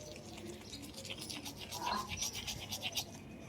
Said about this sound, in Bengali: আমি রাতটা ব্রাশ করে নিই তাড়াতাড়ি।